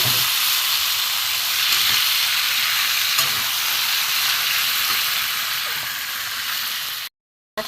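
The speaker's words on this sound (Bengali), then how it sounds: "এখানে কচু শাক সেদ্ধগুলো আমি দিয়ে দিয়ে এবার নাড়বো" Boiled taro leaves stirred into a pan where shrimp are frying, giving a loud, steady sizzle with scraping stir strokes throughout, cutting off abruptly near the end.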